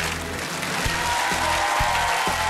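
Steady studio applause from a crowd in the Field of Miracles (Pole Chudes) game-show video game, a continuous clapping wash over low background music for a few seconds, with no talking.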